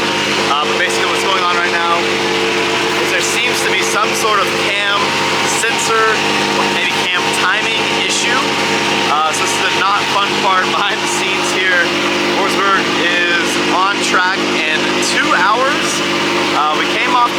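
A car engine holds a slightly high idle, a steady close mechanical hum running throughout with someone talking over it.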